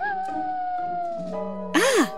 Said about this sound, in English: It's a wolf!